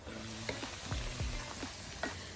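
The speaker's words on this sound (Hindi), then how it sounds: "और अब मैं ये एक अनियन और फ्राई कर रही हूँ" Sliced onion fries in a pan with a soft, steady sizzle, joined by a few scraping stirs and clinks of a spoon.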